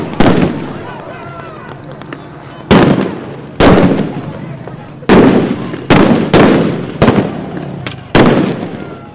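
Fireworks burst during a street protest, about ten loud sharp bangs at irregular intervals, each with a crackling echo, over crowd noise and voices.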